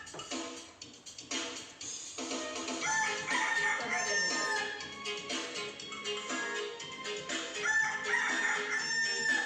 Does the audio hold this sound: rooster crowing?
yes